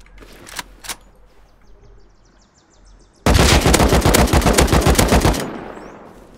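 Gunfire in the survival video game Rust: a few isolated shots ring out first, then a loud, sustained automatic burst of rapid, evenly spaced shots for about two seconds, fading into a ringing tail.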